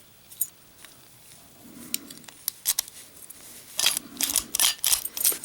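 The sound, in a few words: keys jangling with a disc practice lock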